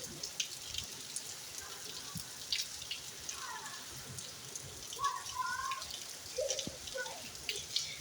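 Steady patter of rain falling on a rooftop, soft and even throughout, with a few faint distant voices in the background.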